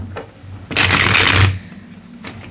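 A deck of tarot cards riffle-shuffled in one loud, close burst lasting under a second, framed by quieter handling and a low background hum.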